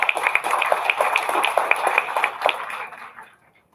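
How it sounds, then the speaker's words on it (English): Scattered hand clapping from a small audience at an annual meeting, brisk and uneven, then thinning out and fading to quiet near the end. "Can we give them a round of applause?"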